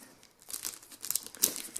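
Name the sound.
cutting into cellophane-like plastic wrap on trail camera box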